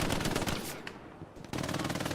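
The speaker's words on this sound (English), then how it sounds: "Although Lucas does get taken out by AMAC with the MG." Rapid machine gun fire rattles in a Hell Let Loose infantry battle in a town centre, two loud close bursts separated by a brief lull, with no talking.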